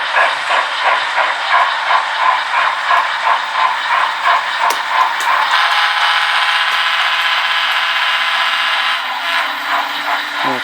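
Model trains running under automation on a high desert rail terminal layout, including an Amtrak train and a UP steam engine, with rhythmic wheel clicks and a steady hiss and rumble close by.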